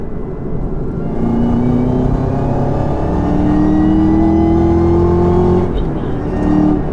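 A 2021 Chevrolet Camaro ZL1 1LE pulls hard in third gear, its engine a loud, steady roar whose pitch climbs through the run before easing briefly near the end.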